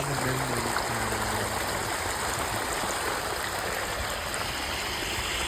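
Water pumped by a well motor and a borewell motor flows steadily into a farm field in a village near Botad, a continuous close rushing gurgle with no voices.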